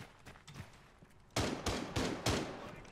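Gunfire in a video game: a quick burst of four sharp shots in rapid succession, close and loud, following a quieter stretch with faint background game sounds.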